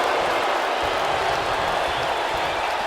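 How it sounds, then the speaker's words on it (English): A wrestling arena crowd at a WWE handicap tag match roars and cheers in a dense, steady wall of noise that holds loud throughout without a break. "Listen to this crowd."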